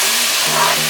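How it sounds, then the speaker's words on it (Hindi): Tomatoes softening in a hot pan for a restaurant-style chicken curry give a short, steady sizzle heard up close, with no one talking. "अभी हम डालेंगे टमाटो। सौटे कर लेना।"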